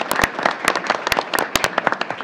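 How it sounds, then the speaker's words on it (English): Applause at a school board meeting for an Eagle Scout award winner and his family, a scattered crowd clapping indoors with sharp individual claps standing out. "Continue the round of applause for his family this evening"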